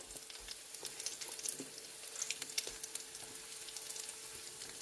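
Tuna fish cakes sizzle in coconut oil over medium heat, a steady low crackle with scattered sharper pops and brief stirring scrapes, close and continuous without any voices.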